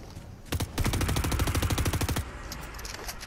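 Rapid automatic gunfire in the Fortnite Chapter 2 Remix Zero Builds mode, a close, loud burst of evenly spaced shots lasting under two seconds, with a few fainter shots trailing after.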